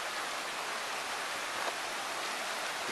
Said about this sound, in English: It's been raining, but the babbling brook is awesome.